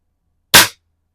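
A single sharp spring-piston air rifle shot cracks out of silence, followed by a brief springy twang that quickly fades.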